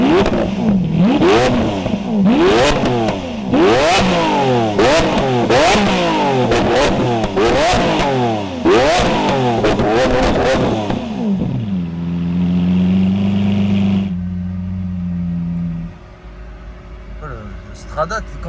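Lamborghini Aventador engine in Sport mode, revving hard in repeated sharp bursts with its exhaust valve open, then settling to a lower idle burble; a voice talks over it.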